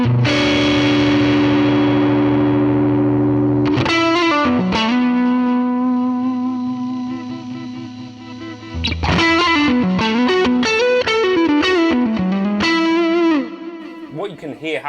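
Electric guitar played through a modeled Fender Princeton amp on a Fractal Axe-Fx, loud and sustained with distorted chords and held notes that ring out, a short pause near the middle, then more phrases.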